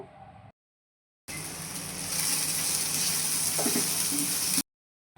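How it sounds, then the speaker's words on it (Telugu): Peppercorns, a piece of cinnamon and cardamom sizzling in hot oil in a pan while stirred for mushroom curry, a steady loud hiss with faint scraping, bounded by brief silences. "తర్వాత ఒక నాలుగు మిరియాలు ఒక చెక్క ఒక యాలుక్కాయ వేసుకొని తిప్పుకోవాలండి కాసేపు"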